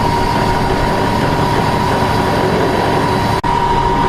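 The pump on a volunteer fire company's fire engine runs at idle, a loud, steady mechanical drone with a constant hum, briefly cut by a single sharp click near the end, with no talk.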